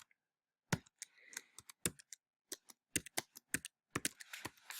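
Keys tapped on a computer keyboard while typing terminal commands, quiet, close clicks in uneven bursts with pauses between.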